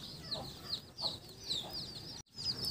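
A free-range village hen forages with her chicks, soft low clucks from the hen mixed with repeated high, thin peeping from the chicks, close by and fairly quiet, in short overlapping bursts.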